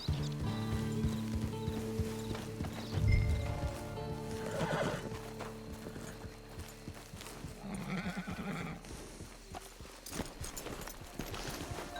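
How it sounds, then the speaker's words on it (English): A horse in the video game Red Dead Redemption 2 whinnies loudly and close, with a low snort, while hooves clip-clop steadily, over ambient game music. "It's your horse."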